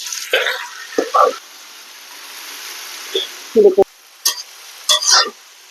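Leafy greens go into a pan with hot oil and fried spice paste for a dried-fish curry, giving a steady low sizzle broken by a few short scraping stirs, fairly close.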